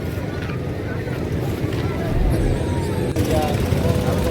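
A motor boat runs on a river at a pilgrimage site, its engine a steady low rumble with wind buffeting the microphone and water noise throughout, growing slightly louder midway.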